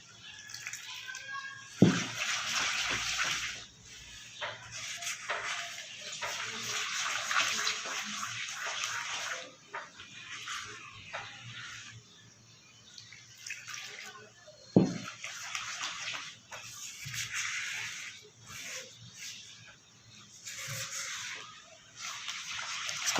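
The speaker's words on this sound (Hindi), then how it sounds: "अब इसके अंदर डाल देंगे पानी। पानी थोड़ा थोड़ा करके डालेंगे।" Water poured little by little into a chocolate biscuit cake mixture, coming in intermittent close gushes and sloshes separated by quieter stretches.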